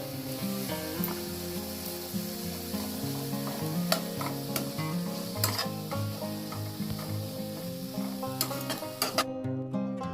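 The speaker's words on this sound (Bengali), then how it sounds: "এবার দিয়ে দিলাম পেঁয়াজ কুচি" Chopped onions frying in a pan, a loud continuous sizzle close up, with sharp stirring scrapes and clicks scattered through it.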